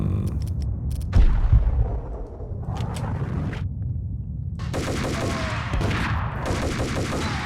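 Heavy gunfire from a new weapon in the 2001 PC shooter Max Payne: a few loud, booming shots with rumbling echoes, then sustained bursts of automatic fire with debris clatter, close and loud, with no talk.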